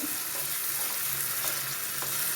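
Tomatoes cook with salt in a pan of tamarind water for a sardine curry, giving a steady, close, even sizzle and bubbling throughout with no voices.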